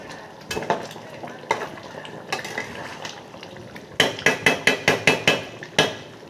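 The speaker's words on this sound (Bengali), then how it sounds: "ওটা দিলাম, দিয়ে একটু নেড়ে নিই" Mutton curry stirred in a pan, a spoon scraping and knocking against the metal in irregular strokes, then a quick run of sharp clinks near the end, close and fairly loud with no talk.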